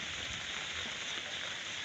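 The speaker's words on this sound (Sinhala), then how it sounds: "මේ තියෙන්නේ කිරියාල පොළේට වැස්ස වැටුනහම" Soft, steady rain patters evenly on garden plants and foliage in the morning, a faint continuous hiss with no voices.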